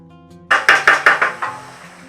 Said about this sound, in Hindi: मिक्स कर लेंगे